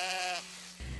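A sheep at a county fair lets out one loud, wavering bleat close by, with the bleat tailing off into steady background hum.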